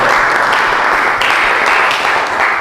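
Applause from a classroom audience after a group presentation in a teacher education exam session in Padang, steady and dense clapping filling the whole stretch at close range.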